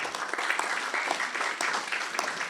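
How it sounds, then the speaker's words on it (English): Audience applause at an architecture exhibition opening, a steady dense clatter of many hands clapping throughout, fairly close and even in level with no talk over it. "Yeah, applause."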